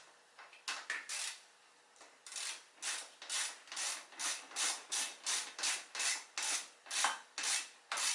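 Fittings being tightened on a 2019 Husqvarna FC450 motorcycle exhaust, heard as a steady series of rhythmic rasping ratchet strokes, close and fairly quiet, with no talking.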